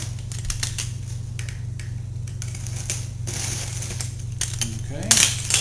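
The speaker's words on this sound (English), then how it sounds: "Take a carton cutter, just cut the lid open." A carton cutter slicing open the lid of a cardboard box holding a CS 2000 coin counter, giving a run of short irregular scratchy cuts and clicks, close and fairly loud, ending in a louder rip.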